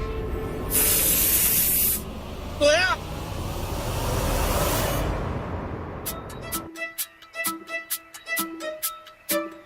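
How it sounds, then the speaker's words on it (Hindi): Two long, loud hissing bursts of pepper spray close by in a TV drama scene, with a squeaky rising sound between them, then sharp clattering knocks and taps. "अरे मैडम आपने स्प्रे आदित्य सर के चेहरे पे डाल दिया।"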